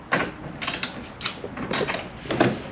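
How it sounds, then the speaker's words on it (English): A screw being undone on a BMW 428i fog light, 2016 model: a few short creaking, ratcheting turns close up, in quick bursts with brief pauses and no talk. "Unscrew this one screw and"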